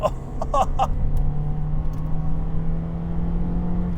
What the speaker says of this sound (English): let's go to the downshifts. Very snappy. Pedal down.